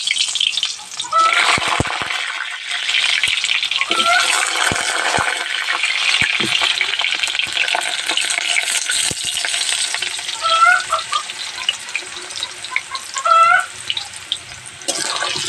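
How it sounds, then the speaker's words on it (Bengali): Large-cut potatoes for biryani fry in hot oil in a wok, making a loud, continuous sizzle that runs through the whole stretch, with occasional stirring and scraping close by. "তো আলুগুলো লাল লাল করে ভেজে নেব।"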